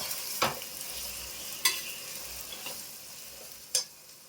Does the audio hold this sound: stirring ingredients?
yes